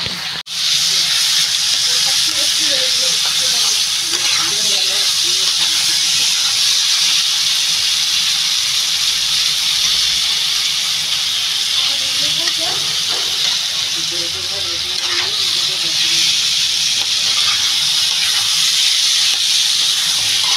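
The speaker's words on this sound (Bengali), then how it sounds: "তরকারিটা ভালো করে কষাবো।" Catla fish and potato curry sizzles steadily as it is sautéed in a pan, a constant close hiss with faint stirring, while someone talks quietly in the background.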